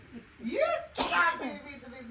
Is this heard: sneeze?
yes